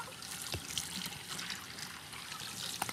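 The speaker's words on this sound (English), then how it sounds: "Just run some cold water on the grains and put it in a strainer." Cold tap water running over quinoa grains in a strainer: a faint, steady trickle and splash with a few small drips, heard alone at low level.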